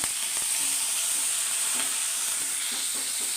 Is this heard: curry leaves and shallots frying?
yes